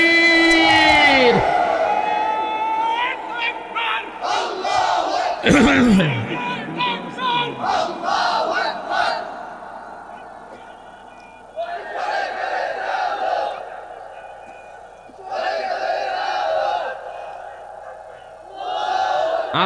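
A large religious gathering roars back in unison after a takbir call at a Bangla sermon, loud rolling bellows of many voices repeated in several surges, raucous and close, with the crowd filling the space.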